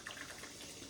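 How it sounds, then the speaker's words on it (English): Water runs steadily from a tap into a sink, making a faint, even hiss and splash with no pauses for the whole moment, with nothing else heard. "Left the water running."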